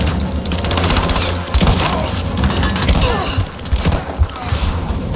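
Gunfire rattles through a Rise of the Tomb Raider firefight, dense cracking shots and impacts piling up loud and close over a rumbling battle background.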